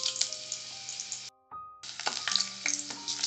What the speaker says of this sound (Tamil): எண்ணெய் சூடானதும் காஞ்ச மிளகாவை போடலாம்.